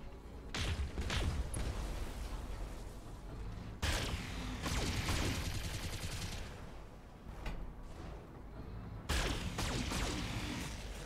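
Turret gunfire and impacts in the BattleTech video game: loud bursts of rapid shots and heavy hits with mechanical clanks, coming in several waves with short pauses between them.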